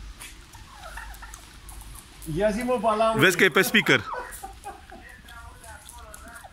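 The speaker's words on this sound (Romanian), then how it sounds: "Uite curcanii tăi." Turkeys gobble in a burst of rapid, warbling, bubbling calls, close and fairly loud, heard amid people talking in a room.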